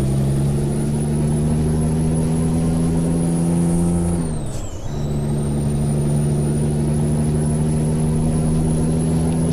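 Simulated Peterbilt 389 truck engine in Euro Truck Simulator 2, a steady low diesel drone with a high whine, briefly dipping and dropping pitch mid-way as if shifting gear, then settling back to a constant loud hum.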